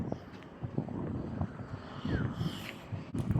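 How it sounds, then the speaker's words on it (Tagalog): Strong wind buffets the microphone in a steady, rumbling roar with gusty swells throughout, on a hillside facing the Sierra Madre in Tanay. "Yung mahangin dito, sobrang hangin."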